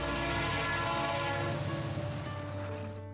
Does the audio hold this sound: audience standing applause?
no